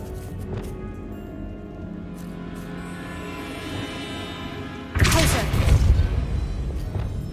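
In Hogwarts Legacy, a Bombarda blasting spell goes off as one sudden heavy explosion, breaking over a quieter background of game ambience and leaving a rumbling tail.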